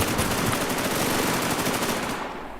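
Rapid gunfire in the online survival shooter WarZ, a dense, loud, continuous burst of shots that fills the whole moment before tapering off at the very end, with no talk over it.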